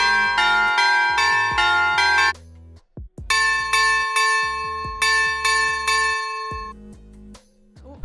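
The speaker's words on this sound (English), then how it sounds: "you can use an Echo Dot speaker as a chime" Two bright doorbell chimes from an Echo Dot smart speaker linked to a Blink video doorbell, each a sequence of ringing bell tones that sustain and fade, loud and clear with a brief gap between.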